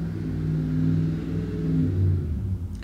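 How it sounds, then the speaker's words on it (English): Heavy trucks rumble past outside, a low, droning engine hum swelling and fading steadily for a few seconds with no talk over it. "Sorry if you hear the trucks outside."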